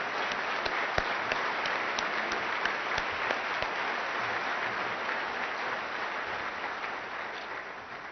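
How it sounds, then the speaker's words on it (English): A crowd at a business awards ceremony applauds the nominees for Manufacturer of the Year, a dense, even clapping that carries on for several seconds with a few sharper claps and eases slightly at the end. "Let's give them a round of applause."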